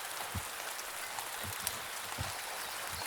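Steady rain falls outdoors onto a sidewalk in a soft, continuous hiss, with a few faint low thumps and no voices.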